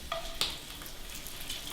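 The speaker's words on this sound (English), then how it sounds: "like to put the bacon down here into the greasy part of the pan" Bacon sizzles in the greasy part of a frying pan during breakfast cooking, a faint, crackling hiss with a few sharp pops over a brief moment.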